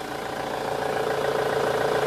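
A 2.2-litre-class Ford Transit T350 van with a 90 horsepower diesel idles steadily after a service and injector work, a close, even mid-pitched hum with a faint rhythmic knock and no talk over it.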